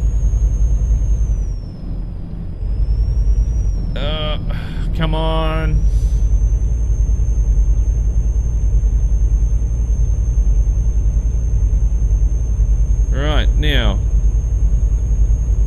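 Kenworth W900L truck in Euro Truck Simulator 2 cruising under a steady low engine drone and rumble throughout, with short bursts of talk and a brief high whine over the top.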